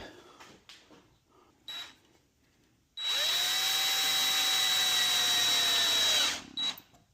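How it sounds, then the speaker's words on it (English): A power drill drives a single screw into an Adirondack chair, one sustained whine of about three seconds rising and holding steady before cutting off, with brief clicks and wood handling around it. "I'm just going to fasten these together with a single screw on each side."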